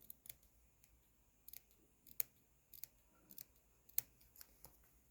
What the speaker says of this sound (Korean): 가위밥을 주고 양쪽에